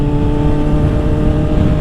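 A Honda CBR600RR sport motorcycle with an aftermarket flash tune, its engine running loud and close with a steady rough growl and strong low rumble, heard alone.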